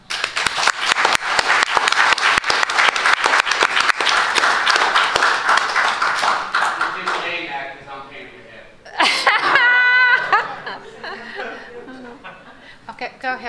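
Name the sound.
audience applauding John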